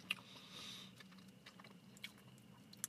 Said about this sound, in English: I'll eat some of the onions because they have a nice crunch to it.